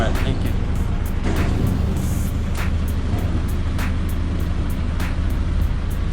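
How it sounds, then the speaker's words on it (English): A lowered Nissan Silvia S14.5's exhaust scrapes the road surface, with repeated short rasping scrapes every half second or so over a loud, constant engine and road drone inside the car. "So all that scraping sound is the exhaust because the car is way too low"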